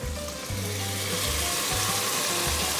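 White wine poured into a hot pan to deglaze a seafood risotto alla pescatora gives a loud, continuous sizzle and hiss with faint bubbling, steady from start to finish.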